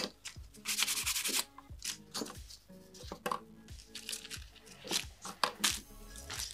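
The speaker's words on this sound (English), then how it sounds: "I'm going to go back to this 100 grit file." A 100 grit file sands a pink and white competition acrylic nail in quick, close back-and-forth strokes, a steady rasping rhythm with brief pauses between passes.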